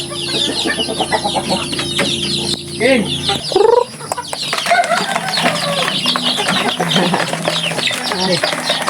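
Chickens cluck and chatter continuously nearby, with a brief squawk partway through and faint background voices.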